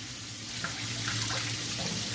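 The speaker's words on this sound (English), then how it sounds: "Cleaning off my spoon" A spoon is rinsed under a running kitchen tap, with a steady close rush of water and faint splashes from the sink.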